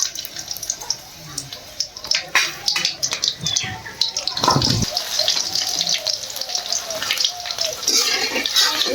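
Chopped onions fry in hot mustard oil for a fish dish, giving a steady crackling, hissing sizzle with sharp spits and pops that rises midway, heard close, while a person talks over it.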